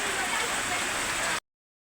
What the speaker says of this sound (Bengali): বৃষ্টি চলে আসছে জোরে, মোবাইলটা সেভ করতে হবে।